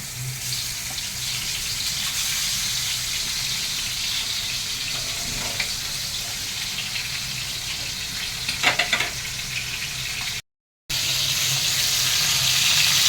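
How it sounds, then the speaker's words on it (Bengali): Pieces of bhola fish fry in hot oil in a pan, giving a steady close sizzle that runs throughout with a few faint clinks, a brief gap and then more crackling. "এখন মাছগুলিকে ভেজে নিচ্ছি"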